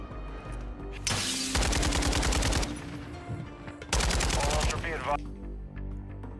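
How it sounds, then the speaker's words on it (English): Rapid automatic gunfire from a player in a competitive shooter game, two loud sustained bursts separated by a short pause, each rattling on for about a second or more, with faint background game ambience. "how accurate this guy is when he's shooting and how perfect his tracking is"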